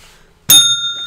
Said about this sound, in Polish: I na końcu pozwalam sobie kilka razy tylko w niego pyknąć.